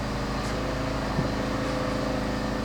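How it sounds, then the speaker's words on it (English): A neighbor's lawn mower drones steadily in the distance, a constant engine hum with a faint rhythmic pulse, continuing unbroken throughout with no voices over it. "Looks like my neighbor has decided to mow his lawn"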